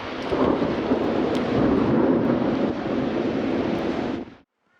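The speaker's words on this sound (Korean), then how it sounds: "잔뜩 찌푸린 서울의 하늘에서 벼랑간 천둥 소리가 울립니다." Thunder rumbles heavily over Seoul during a spring storm, a loud, continuous low roar that fills the whole stretch before cutting off abruptly near the end, with no voices.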